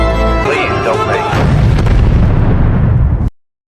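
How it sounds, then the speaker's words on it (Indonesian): A loud, roaring robot explosion in a film erupts and rumbles for a few seconds, with a whooshing rush before it, then cuts off abruptly. "Dr. Man pun merancang robotnya agar meledak saat diperbaiki"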